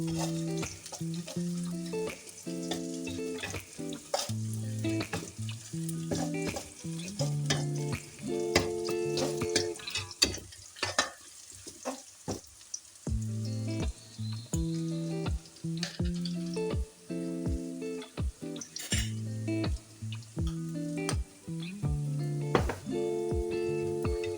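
Shallots and garlic sizzle and crackle steadily as they fry in fresh oil, with a rhythmic plucked melody playing loudly over it throughout.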